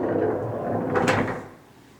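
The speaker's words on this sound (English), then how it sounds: "we attached new barn door hardware and made this a self-closing sliding barn" Self-closing sliding barn door on new hardware in a renovated 1700s farmhouse bathroom, rolling along its track for about a second and ending in a soft close, then quiet.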